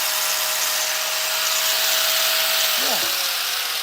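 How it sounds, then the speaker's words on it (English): A small electric finger sander hums steadily on chainsaw-carved wood, a continuous close motor whine that dips and wavers briefly near the end as the pitch bends. "A little bit with the finger sander."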